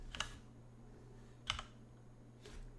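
A few isolated key presses on a computer keyboard, three soft, separate clicks about a second apart, close but faint over a quiet room hum.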